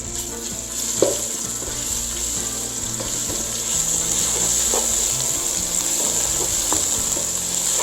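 Onions fry with ginger-garlic paste in a pan for vegetable pulao. A steady loud sizzle plays with occasional stirring scrapes and no voices.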